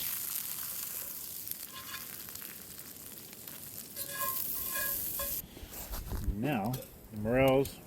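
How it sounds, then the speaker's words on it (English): Fiddleheads sizzle and fry in butter with salt in a pan at a camp setting, a steady crackling hiss with a few utensil clinks, followed by brief voice-like sounds near the end. "I'll just saute these for a few minutes."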